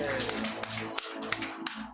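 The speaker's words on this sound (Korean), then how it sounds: "영광의 박수 올려드리시겠습니다" Church congregation applauding during a worship service, a dense wash of clapping with a few sharper individual claps standing out, fairly close and steady for under two seconds.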